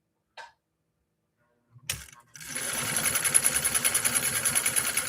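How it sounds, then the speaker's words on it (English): A Nordic Husqvarna Automatic sewing machine runs at regular speed on cam A stitch 3, starting after a couple of brief clicks and settling into a steady, close, evenly pulsing mechanical whir with a bright high whine that continues alone. "now we're sewing at regular speed again"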